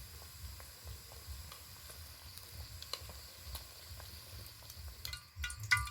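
Balushahi sweets fry in warm oil with a faint, steady sizzle and patter of small bubbles, quiet and close, with a few light clicks toward the end.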